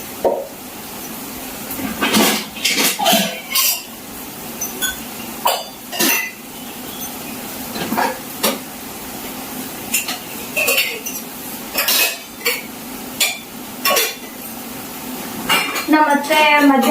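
Steel pots, plates and cutlery are washed by hand outside the kitchen sink, giving repeated clinks, clatters and scrapes in irregular bursts, with a spray of water, running throughout over a quiet background.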